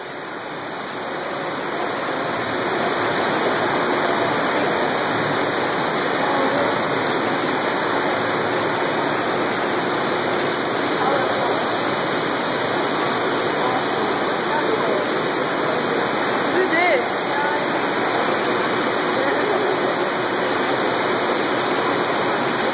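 Steady, continuous rush of a garden waterfall at a botanical garden, close and fairly loud, unchanging throughout with no voices standing out.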